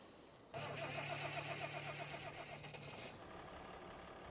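A tractor engine in Farming Simulator 25 cranks and catches, then settles into a steady mid-pitched idle for a few seconds before the sound drops away. It is fairly close and clear, with no talking.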